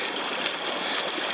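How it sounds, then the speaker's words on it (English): A babbling brook flows beside a footpath on the Long Mynd in Shropshire. It makes a steady, close, full rush of water with fine gurgling detail, continuous and without voices. "the sound of a babbling brook"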